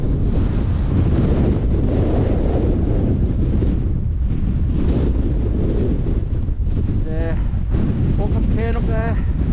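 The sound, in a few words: strong wind on a hilltop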